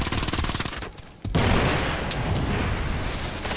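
Rapid automatic gunfire in the video game Ghost Recon Future Soldier: a loud machine-gun burst, then a brief near-silent gap, then a sustained dense fusillade of shots continuing to the end.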